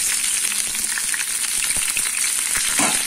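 Mutton fries in oil with dried red chilies and curry leaves for an Andhra-style gongura mutton curry, a loud, continuous close sizzle with faint crackles and stirring throughout.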